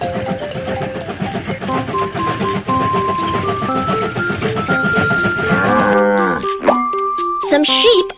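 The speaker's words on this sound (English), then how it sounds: "some sheep are on the train track. Let's drive them away." Cartoon sheep standing on a train track bleat in a few short, wavering calls near the end, following a stretch of bright, busy cartoon music.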